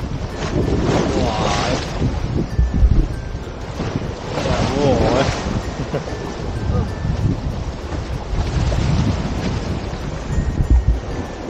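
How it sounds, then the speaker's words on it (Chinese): Rough sea waves and strong wind around a small boat crossing open water off the southern coast of Hong Kong Island, a loud, steady roar with surging swells and gusts buffeting the microphone, voices heard faintly at times. "出到嚟海中间咧系咁波涛汹涌"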